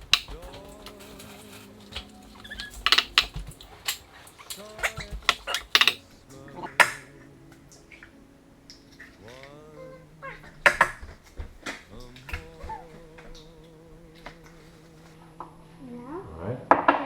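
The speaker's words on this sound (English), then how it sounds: "so just break the eggs" Eggs cracked against a bowl while a Christmas dish is prepared, sharp shell taps and clinks coming in short scattered bursts, with occasional utensil clatter and someone talking around them.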